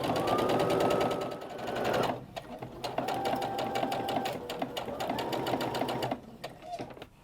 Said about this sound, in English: we're just going to sew down the entire length of this